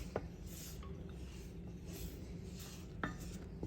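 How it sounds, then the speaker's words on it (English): A spoon stirs cake topping in a cooking pot constantly, making soft, quiet scrapes and light clinks that repeat unevenly over a faint, steady background hum. "Just keep stirring, keep stirring"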